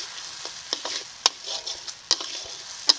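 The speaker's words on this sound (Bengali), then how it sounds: "এখন মশলাটাকে ভালো করে কষিয়ে নেব।" Turmeric, salt and Kashmiri chili powder stir-fry in a pan with a soft, close sizzle broken by sharp scrapes and clinks of the spoon against the metal. No one speaks.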